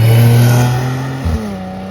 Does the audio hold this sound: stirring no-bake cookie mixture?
no